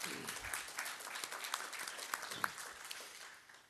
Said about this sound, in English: It is worthy of applause for yourselves, absolutely.